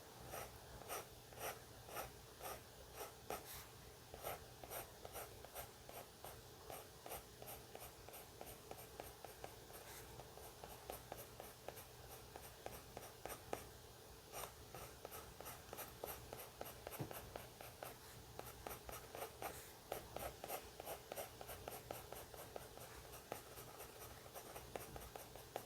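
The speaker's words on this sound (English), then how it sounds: "I've got my HB. I want to add some more lines," An HB pencil sketches light lines on paper in a continuous close scratching, with quick repeated strokes and faint breathing underneath, for the whole stretch without speech.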